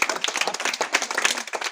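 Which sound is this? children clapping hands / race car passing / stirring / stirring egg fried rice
children clapping hands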